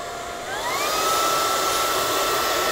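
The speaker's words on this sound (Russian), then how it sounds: "вот сиденье очень актуально пылесосить" A vacuum cleaner pulls dog hair off a car seat inside the vehicle. Its steady whine starts, then the motor pitch climbs and settles into a loud, close, continuous drone with no talking.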